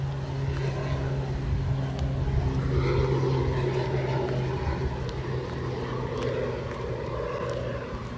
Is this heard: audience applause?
no